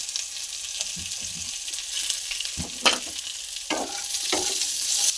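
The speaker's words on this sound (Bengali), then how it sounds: "আলুগুলো একটু হালকা করে ভাজা হয়ে গেছে।" Potatoes lightly frying in a pan for a Bengali bottle-gourd greens and fish curry give a steady, close sizzle, with a few brief clatters of stirring and a slight rise in hiss toward the end.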